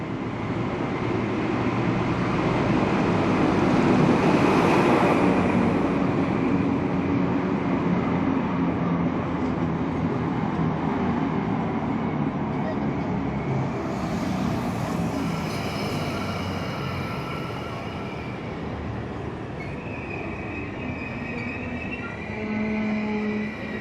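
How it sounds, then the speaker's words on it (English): An XPT passenger train with Countrylink units pulls into a New South Wales station, a loud sustained rumble of wheels and engine with squealing brakes and rail noise, steady and close, no voices. "we see Countrylick XBT units 2019 and 2004 pulling into the station, picking up passengers heading for Sydney."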